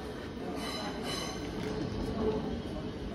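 A Regiojet passenger train, number 1035, pulled by a Siemens Vectron locomotive, pulls into a station with a steady rumble and a faint squeal of wheels, heard from a short distance away.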